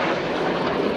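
Red Arrows BAE Hawk T1 jets in a flying display at an air show, a steady loud broadband roar of jet noise holding throughout with wind buffeting, no talk.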